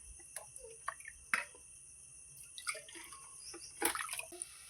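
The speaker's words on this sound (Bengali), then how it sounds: "আমি মোচাটা সিদ্ধ করার জন্য আমি এইখানে কিছুটা পরিমাণ জল দিয়ে দিচ্ছি" Water being poured into a pot to boil banana flower, faint irregular splashes and drips in a quiet room, alone without talk.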